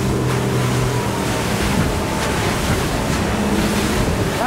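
A 2021 Nimbus T9X motorboat engine hums steadily over wind and rushing water, its pitch climbing near the end as the boat powers up.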